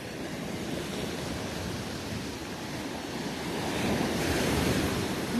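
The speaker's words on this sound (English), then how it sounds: "Seems like the waves are getting bigger right in through here." Ocean surf rolling steadily onto a beach in North Naples, Florida, on a rainy early morning, a continuous broad wash that swells louder toward the end, with wind buffeting the microphone and no voices.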